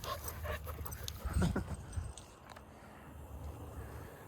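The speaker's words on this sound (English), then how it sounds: "Hi, big dog." A big dog pants and whimpers close by, with breathy bursts and soft whines peaking midway before settling into quieter panting.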